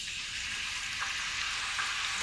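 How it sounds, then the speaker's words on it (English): Potato chips blanching at 140 degrees Celsius in hot oil give off a soft, steady frying hiss with faint bubbling. "We blanch them at 140 for 8 minutes."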